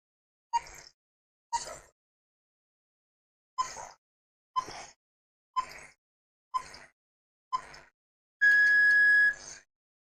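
Quiz countdown timer in a reasoning practice test: eight evenly spaced electronic beeps roughly a second apart, then a longer sustained buzzer tone at the end, clear and alone with no speech.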